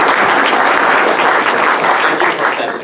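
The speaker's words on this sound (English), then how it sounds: "Can everybody just give them a round of applause?" A Rotary Club meeting room bursts into close, loud, sustained clapping for a host family, steady and dense throughout.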